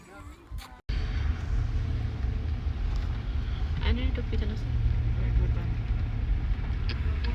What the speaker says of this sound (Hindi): स्टार्ट कर रहे हैं ना गाड़ी।